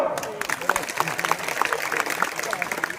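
Crowd applause at a political campaign rally: scattered clapping patters beneath a man's amplified speech, which dominates the moment.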